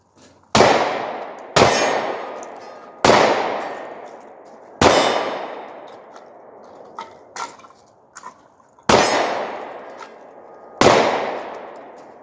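Glock G43 pistol fired at a steel target about 50 feet away, each sharp, loud shot followed by a ringing metallic clang, six or seven spaced rounds with decaying echoes and a few lighter clicks in between, no talking.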